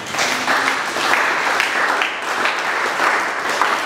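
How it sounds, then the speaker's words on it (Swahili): A church congregation breaks into sustained applause during a Swahili sermon on faith, a dense, steady clapping that fills the whole moment at close range. "Yesu makofi."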